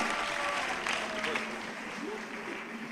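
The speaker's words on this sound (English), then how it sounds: "let's clap for him" Audience clapping at a national investment quiz competition final, a broad continuous wash of applause with voices faintly beneath it, steady and moderately distant.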